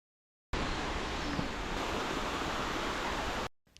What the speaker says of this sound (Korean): 제2폭포입니다. 이 폭포를 담은 현복사호와 함께 감상하실 수 있습니다.